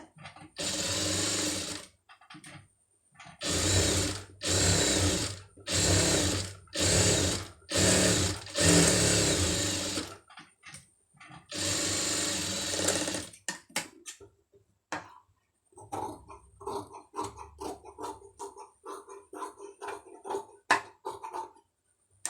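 A sewing machine stitches a sleeve made from saree cloth in repeated loud bursts of rapid whirring separated by short pauses, followed by quieter scattered clicks and handling sounds.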